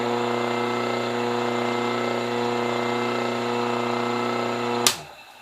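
A steady three-phase electric motor running on single-phase power hums with a strong, even tone, then cuts off abruptly near the end with a sharp click as it spins down.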